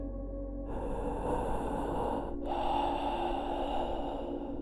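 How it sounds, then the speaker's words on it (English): Heavy, loud breathing close up, with drawn-out breaths and a snorting catch partway through over a steady background hum. "I can hear him breathing heavy,"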